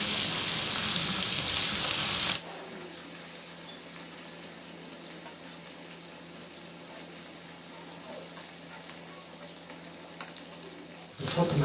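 Garlic sizzles in a pot as the base for a koshari sauce: a loud, bright frying hiss for the first two seconds, then a softer, steady sizzle that swells again at the very end.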